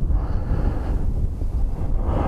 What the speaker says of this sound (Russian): шумит ветер